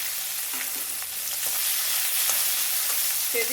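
Shallots, dried red chillies and curry leaves fry in oil for a horse gram dish, a continuous close hiss and crackle with several soft stirring scrapes spread through it.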